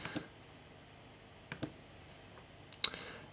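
Computer mouse clicks while working in Adobe Illustrator: three quiet, close paired clicks spaced across a hushed room.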